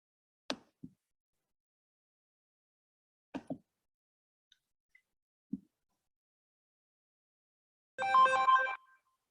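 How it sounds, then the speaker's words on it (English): A telephone rings during an online hospital meeting: a few soft clicks and taps in near silence, then one short burst of a bright electronic ringtone at the very end. "I'm trying to call you by phone."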